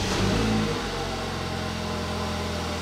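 A BMW engine, with a suspected faulty injector, turns over and catches, then settles into a steady, fairly loud idle that runs on evenly without talk.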